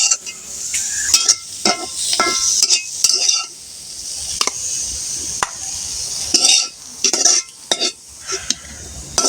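Fried vegetables are lifted out of a pan on the stove, making sharp, irregular metal scrapes and clinks of a spatula against the pan over a faint sizzle.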